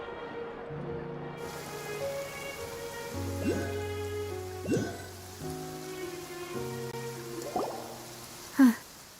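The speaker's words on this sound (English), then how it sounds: "It's been raining non-stop for a few days now." Steady rain falls as a soft, continuous hiss beneath sustained music, with a few faint louder patters and a brief sharp tap near the end.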